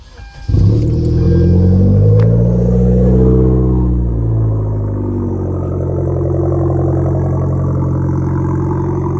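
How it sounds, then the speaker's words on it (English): A Hyundai Genesis Coupe 2.0T with an ISR O2 housing cold starts: a brief starter whir, then the engine catches with a loud surge and settles into a steady, deep, rumbling fast idle close by. "let me give you guys a cold start"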